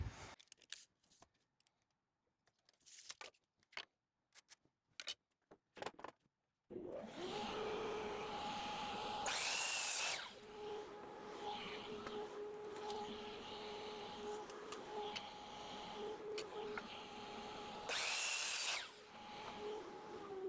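An impact driver sinks 2.5 inch screws into 2x4 lumber, preceded by scattered clicks and handling knocks, then a long steady mechanical whir from about seven seconds on with two louder rattling hammering bursts, close and loud with no talk.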